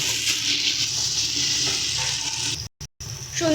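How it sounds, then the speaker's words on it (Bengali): Fried paneer being stirred into hot gravy in a pan gives a steady, loud close sizzle with scraping stir strokes, then a brief cut-out before the frying hiss returns. "পনিরগুলো দিয়ে ভালো করে কিন্তু একটু মিশিয়ে নিচ্ছি এটাকে আমরা।"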